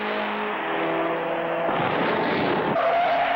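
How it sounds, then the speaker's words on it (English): Cartoon race car, car number 5, skidding out of control on a racetrack: a loud, continuous tire screech with engine roar, shifting pitch midway and rising again near the end, heard alone without speech. "Clutch Cargo's car seems to have gone wild. He's lost control"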